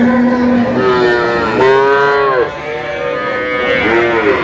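Dairy cows and calves at Aftabganj cattle market in Dinajpur moo loudly and close by, several long drawn-out lows following one another over a steady background of market murmur.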